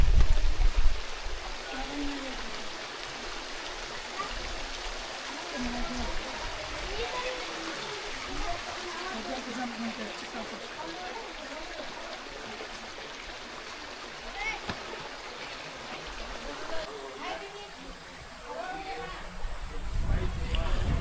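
Water flows in a rocky stream at the start of Sandhan Valley, fed from two points, giving a steady moderate rushing wash, with people talking faintly over it.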